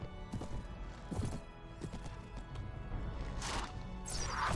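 Galloping horses from cavalry in the Mount and Blade: Warband video game, hooves clattering in quick bursts at moderate distance, with a couple of brighter clashes near the end.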